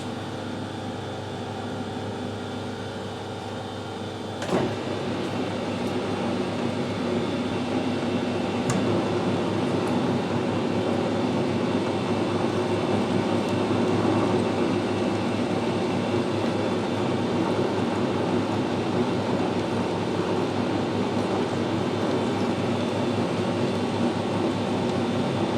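Metal lathe screw-cutting a 1mm thread on a final drive part, a steady continuous machine hum and whir with a couple of faint clicks, constant in level throughout.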